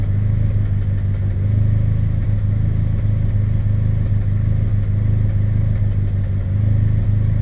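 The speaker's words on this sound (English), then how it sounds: "it's misfiring like crazy" Suzuki X90 engine idling roughly with a misfire, a steady loud low drone with uneven stumbling pulses and light clatter throughout, no voices.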